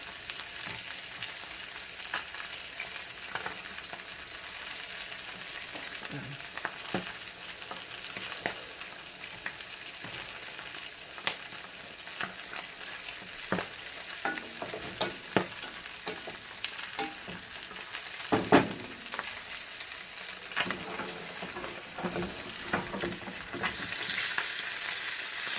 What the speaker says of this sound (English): Then stir in the orzo and the mirepoix